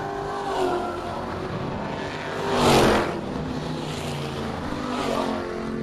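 Stock cars race at Springport Motor Speedway, some trailing smoke, their engines roaring past as a steady loud drone that swells sharply to a close pass at the middle of the clip, then eases and builds again toward the end.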